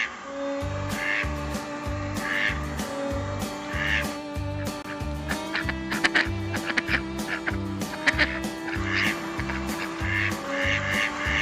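Repeated duck quacks ring out at a steady pace over a thumping, looping musical beat in the background, loud and continuous throughout.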